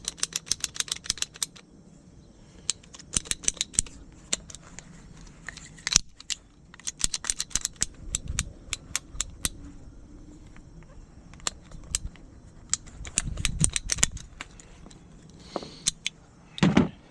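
Short pieces of blue PEX tubing are cut with a hand cutter, making sharp clicking and snipping sounds in separate bursts with quiet gaps between them, close and moderately loud.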